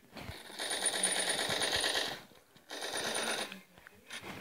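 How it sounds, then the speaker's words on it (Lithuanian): Rapid gunfire from the Blitz Brigade video game: dense bursts of automatic shots, fairly loud and close, rattling in two long runs separated by a short pause, with a brief burst at the end. "Ir kažkas man atrodo jį šaudo."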